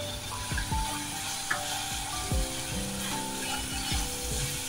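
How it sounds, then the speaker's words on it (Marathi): Ginger garlic paste sautés with onions in a pan, giving a moderate, steady sizzle with repeated scraping and clicking from stirring. "ते छान परतवूया। लसणाचा कच्चा वास जाईपर्यंत परतवत राहावा।"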